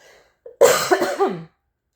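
A single person coughs during a tarot reading: a brief faint throat sound, then one sharp, close, loud cough with a rough voiced tail lasting under a second, followed by silence.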